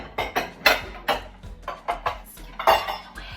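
A heavy mixing bowl grabbed and handled in a home kitchen while making red velvet cheesecake brownies, a series of close clanks and knocks of dishes and utensils in an uneven rhythm, with no talking.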